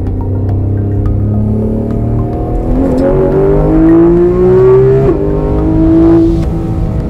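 A yellow Porsche GT3 RS, a road-legal race car with modifications, revs hard nearby. Its engine climbs through several rising sweeps, then holds a loud high whine before easing off.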